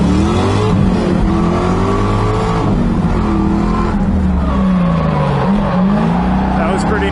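A drift car's engine revs hard and continuously during tandem drifting, loud and close throughout, with shifting pitch as the throttle is worked.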